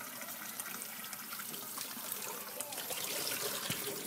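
Water poured indoors in a steady trickling, splashing stream that runs continuously and fairly close, with no speech over it.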